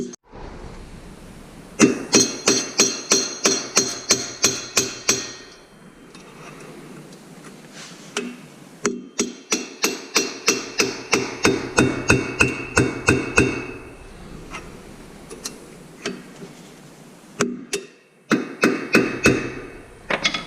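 Rapid metallic hammer blows on a metal punch land in bursts of steady strikes, pausing briefly between runs, close and sharp with a ringing edge.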